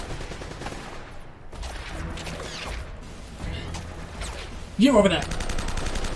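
Gunfire in the video game Uncharted: Drake's Fortune, a rapid crackle of shots with sharp impacts amid game ambience, plus a brief in-game voice.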